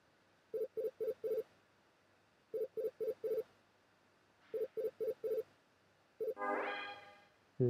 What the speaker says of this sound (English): I have a video phone call from Jamie.